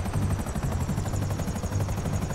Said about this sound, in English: You were in a helicopter!